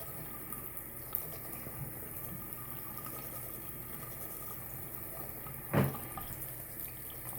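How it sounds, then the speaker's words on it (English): Tap water runs steadily into a sink while a dirty makeup brush is scrubbed on a silicone brush cleaner, a soft continuous splashing with a louder splash near the end. "so the water is running clean"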